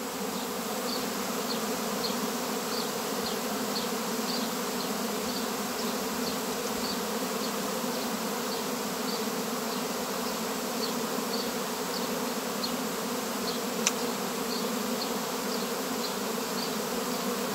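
A bee swarm around a hive with a young queen drones steadily, a dense continuous buzz of many bees that stays level and close throughout, with one brief sharp click near the end.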